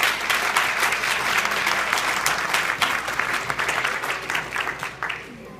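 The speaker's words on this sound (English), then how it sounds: "So clap for him." Applause rises from an audience at a family celebration event, a full, crisp clapping that holds steady for several seconds and then thins into scattered claps as it fades out.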